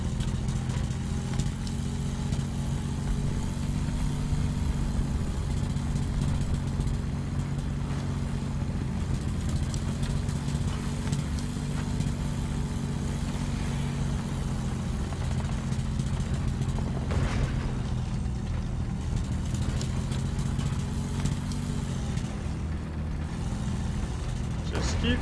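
Vehicle engine in a video game labouring at low speed, a steady, loud droning hum with a constant low tone running the whole time and no break.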